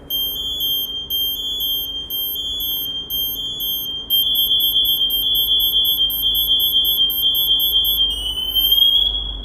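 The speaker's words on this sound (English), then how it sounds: "we're going to wait for your pass to go into full activation. This will produce an ascending tone." MSA G1 SCBA PASS device in full alarm, sounding a loud, steady, piercing electronic tone with rhythmic beeping above it. It gets louder partway through and climbs in pitch near the end, with no voices.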